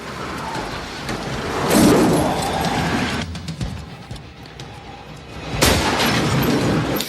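Heavy rifle gunfire in a shootout scene from the film Heat, with loud booming bursts and echoing cracks, a big blast near the start and another strong burst toward the end over continuous rumbling noise.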